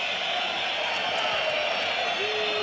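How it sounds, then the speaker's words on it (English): Dense, steady roar of a football stadium crowd at a 1994-95 Champions League match between Galatasaray and Manchester United, with whistling mixed into the constant hiss-like din and a commentator talking over it. "This crowd might take some silencing."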